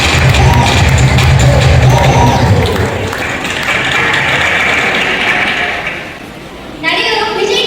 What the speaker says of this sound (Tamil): எல்லாம் கரகோஷங்களை எழுப்பலாம்.